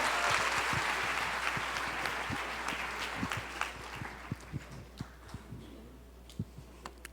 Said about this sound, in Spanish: Y dale un fuerte aplauso al Señor.